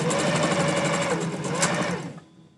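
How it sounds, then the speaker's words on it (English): A domestic sewing machine runs steadily at close range for about two seconds, a continuous whirring drone with rapid stitching rhythm, then stops abruptly and leaves near silence. "the cat is really interested in the sewing machine"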